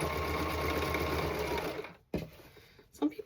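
A sewing machine runs steadily at close range, stitching fabric for a mock-up of black striped pants, then stops abruptly and a voice speaks over faint handling noises.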